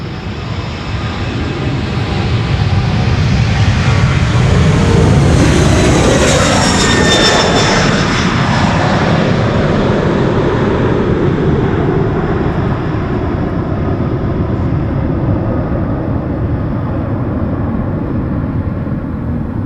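An airliner takes off from Schiphol's Polderbaan runway 36L, engines building to a loud, close roar with a rising whine that peaks quickly, then recedes into a long fading rumble, no talking heard.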